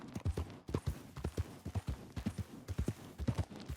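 Horse hooves clip-clop steadily in the WildRP roleplay game, a brisk, evenly paced run of hoofbeats close by and alone, with no talking.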